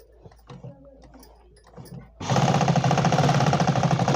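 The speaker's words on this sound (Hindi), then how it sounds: "ये मैं कच्ची सिलाई लगा के दिखा रही हूँ ताकि फटाफट समझ में आ जाए" A sewing machine stitches a four-panel petticoat, starting abruptly after quiet handling noises and then running loud, steady and fast with a close, rhythmic chatter.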